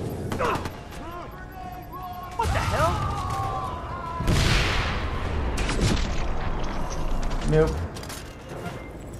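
Grenade explosions in the Watch Dogs: Bad Blood video game, several loud booming blasts with crashing debris and mechanical clatter, mixed with game music and effects.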